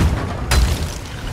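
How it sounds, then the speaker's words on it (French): A cannon fires in Sea of Thieves as a single sharp, loud boom with a broadband crack, then a rumbling decay amid constant ship and sea noise. "Utilisez les canons pour détruire tous les monstres."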